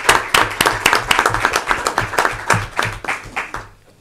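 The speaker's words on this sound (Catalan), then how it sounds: "Demano doncs un aplaudiment pel Ramon Collar i Sorribes." Hands clap in applause for Ramon Collar i Sorribes at a talk, close and loud with a clear, fairly regular rhythm that fades out at the end.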